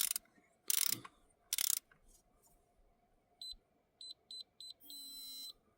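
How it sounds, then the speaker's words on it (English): Short clicking bursts of a torque wrench tightening a spark plug on a Honda CR-V, heard as a few quick ratchet passes and scattered clicks near and fairly quiet, with faint beeps and a soft mechanical whir. "And torque it down to 13 foot-pounds."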